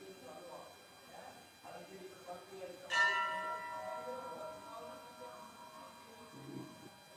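A single bell rings once with a sharp strike during a yoga and meditation session in Haridwar. Its clear metallic tone lingers and fades slowly, while a soft voice speaks quietly around it.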